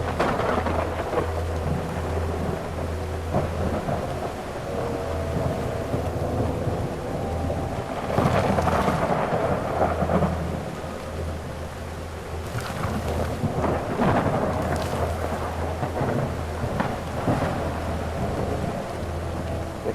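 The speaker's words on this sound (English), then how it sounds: "It's raining cats and dogs here." Heavy rain pours steadily in the Call of the Elder Gods video game, while deep rolls of thunder swell and fade several times over the continuous downpour. No one speaks.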